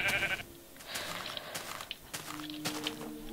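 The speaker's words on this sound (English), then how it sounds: "Sheep." In the video game Minecraft, a sheep gives a short bleat at the start, followed by soft scattered footsteps and small clicks at a quiet, moderate distance.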